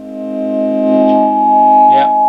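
A Blackstar HT5 guitar amplifier on its dirty channel puts out a loud, sustained distorted tone that swells and holds, with a brief scrape partway through.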